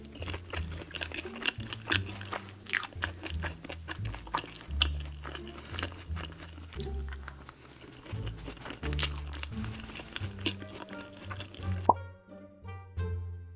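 Cheesy, saucy animal fries are eaten by hand in big bites. Close, quiet wet chewing and soft crunches repeat over faint background music.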